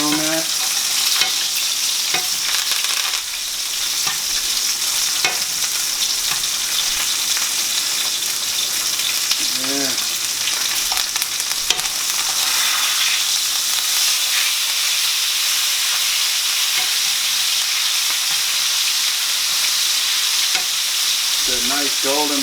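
A rib eye steak frying in a pan with butter and fresh thyme, a loud continuous sizzle and hiss throughout, with occasional clinks and scrapes as it is handled, alone without talk.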